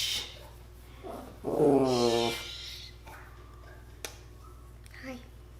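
Millie, a pet dog, lets out a drawn-out, whiny bark-howl at moderate loudness indoors, then falls quiet apart from a small click and a faint yip.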